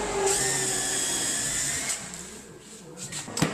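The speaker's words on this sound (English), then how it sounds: "he'll just go ahead and drill all those holes" A power drill whines steadily for a couple of seconds while drilling a pilot hole in wood for kitchen cabinet installation, then spins down, followed by quieter clicks and handling noises.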